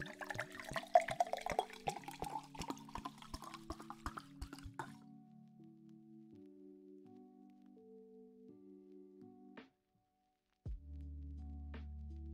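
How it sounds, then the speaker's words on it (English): Water being collected in a Roblox game, a rapid run of splashing drips and trickles filling up, then quiet game music notes and a low hum after a brief gap. "Let's actually get some more water."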